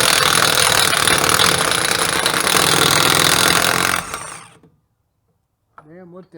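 A cordless impact wrench hammers loudly and continuously at over-torqued lug nuts on a car for about four seconds, then cuts off into silence before a voice briefly speaks.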